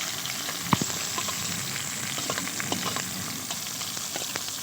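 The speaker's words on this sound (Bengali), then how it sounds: "এগুলো দিয়ে একটু ভেজে নেবো ভালো করে" Chopped onion and green chili frying in hot oil with black cumin seeds for a fish curry, a steady dense sizzle with scattered small pops and crackles throughout, close and fairly loud, with no voice over it.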